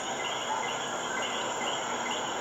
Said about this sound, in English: you're gonna hear some noises at night with crickets and coquis